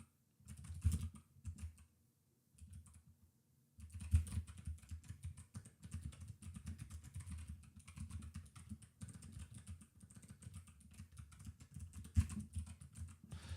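Steady typing on a computer keyboard while coding a terminal UI library in Rust, with rapid irregular key clicks in bursts and a short pause near the start, close and moderately quiet, with no voices.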